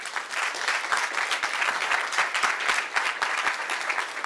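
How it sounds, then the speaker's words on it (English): A live-stream masterclass audience breaks into a round of applause, a dense, even wash of many hands clapping at full strength throughout, with no voices over it. "Can we just give them a round of applause, please?"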